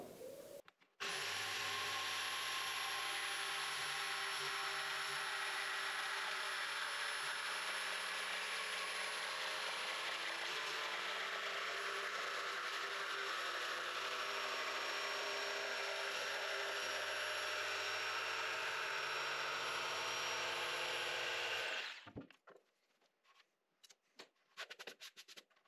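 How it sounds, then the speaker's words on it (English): A jigsaw cuts wood pieces for a wall cabinet, running as a loud, continuous close buzz for about twenty seconds before stopping, with no talk and brief rattling afterward. "using the jigsaw."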